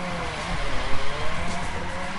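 A Mazda rotary engine car in The Crew 2 drones steadily with a buzzy, rising and falling tone, revving through a turn, no voices.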